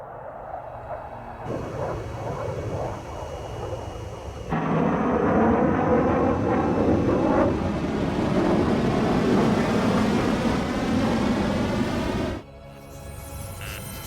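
An enemy jet in the Ace Combat 7 air-combat game roars in as a broad, sustained rumble that swells abruptly louder midway, holds steady for several seconds, then cuts back to a quieter drone.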